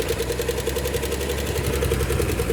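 An abandoned 1968 Chevrolet Impala with a carburetor engine catching and running, a steady loud rumbling idle with a rapid pulsing knock, close up and with no voices.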